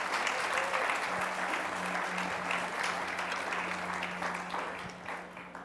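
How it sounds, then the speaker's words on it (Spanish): A church congregation applauds during a Spanish-language sermon, with steady, dense clapping that fills the whole stretch and fades slightly toward the end. A low hum runs underneath the applause. "aplauda al Señor,"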